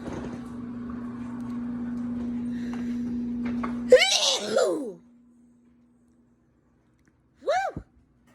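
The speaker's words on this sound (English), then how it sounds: "Okay, so it did make me sneeze." A person sneezes after eating a piece of raw onion, a sharp nasal burst following a stretch of low background hum, then a brief second vocal sound a few seconds later.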